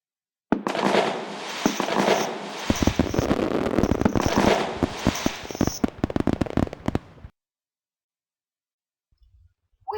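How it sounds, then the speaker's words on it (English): Fireworks go off in a dense, close barrage of sharp bangs and crackling bursts for about seven seconds, then stop abruptly into near silence. "We watched the fireworks."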